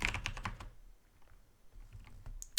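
Rapid keystrokes on a computer keyboard as a git pull command is entered, a quick burst of clicks at the start, then sparse light taps and a final key press, close and fairly quiet.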